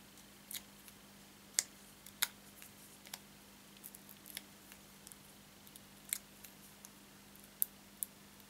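Scissors snip through paper repeatedly at irregular intervals, sharp quiet clicks against a faint background hum.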